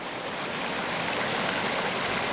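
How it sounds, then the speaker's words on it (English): A small side stream branching off a main river flows steadily, a dense, continuous rush of water that stays even and fairly close throughout. "Here you can see a little side stream coming out from the main river."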